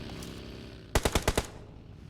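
A quick burst of five rapid gunshots in the mobile game PUBG Mobile, sharp and evenly spaced over about half a second, following a quiet stretch.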